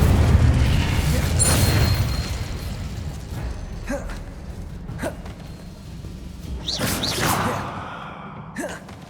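Spell blasts from Hogwarts Legacy gameplay, including fire and explosive spells. Several separate booming bursts stand out over a rumbling game soundtrack, spaced a few seconds apart.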